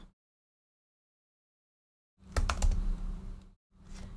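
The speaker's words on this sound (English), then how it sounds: "what you do is you type in the formula if" Keys on a computer keyboard are tapped in a quick burst of clicks as a formula is typed, after a silent pause, then a few more keystrokes follow, close and fairly quiet.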